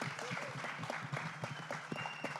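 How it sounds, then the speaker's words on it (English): An audience claps steadily for a few seconds, a dense spread of overlapping hand claps at moderate level with no voices over it. "So, I think we should clap for Bhushan as well, though he's not here today."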